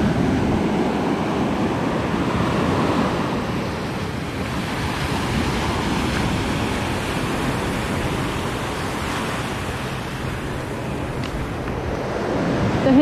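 Sea waves washing onto a beach make a steady, fairly loud rush of surf, blended with some wind noise, that continues unbroken for the whole stretch with no talking.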